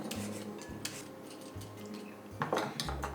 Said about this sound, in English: We're just going to quickly peel them.